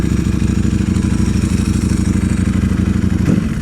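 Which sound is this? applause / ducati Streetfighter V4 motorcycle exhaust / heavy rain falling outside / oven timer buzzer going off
ducati Streetfighter V4 motorcycle exhaust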